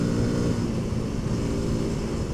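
Honda CRF300L motorcycle engine with its intake snorkel removed, a steady loud rumbling drone held at throttle, close and continuous with no talking.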